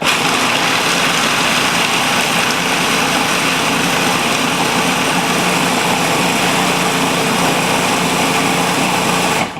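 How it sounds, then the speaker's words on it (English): A loud, steady mechanical whirring and grinding from a blender running continuously at full speed, blending cacao powder, with no talking. "you could hear the machine going from that really hard pulsating noise to a much softer grind"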